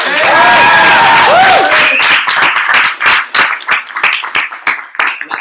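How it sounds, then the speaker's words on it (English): A new class gives itself a round of applause, starting as loud dense clapping mixed with voices, then thinning into scattered individual claps that fade toward the end. "Give yourselves a round of applause."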